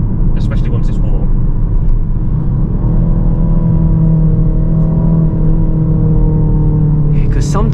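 Engine burble from a 2023 Ford Focus ST Mk4.5 facelift estate with automatic gearbox, heard from inside while driving: a steady low rumble with a faint layered hum throughout, and brief crackly bursts near the start and end.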